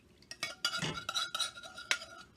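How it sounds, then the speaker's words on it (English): Sauce splashes and drips into a frying pan amid clinks of a utensil against metal, a series of short wet bursts close by. "I'm going to now pour this sauce into this pan."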